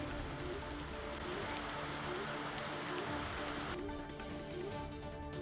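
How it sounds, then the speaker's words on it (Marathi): Steady unseasonal rain patters and hisses on surfaces throughout in Pimpri Chinchwad, a dense constant wash of drops with no voices. "पिंपरी चिंचवड शहरातील सर्व भागात अवकाळी पावसाने दमदार हजेरी लावली आहे"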